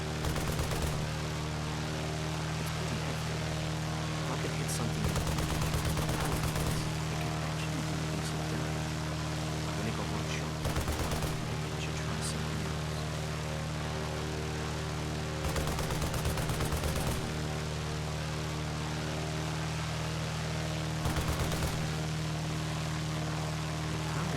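Bursts of rapid video game gunfire crackle in several clusters over a steady droning engine hum, loud and close, with no talking.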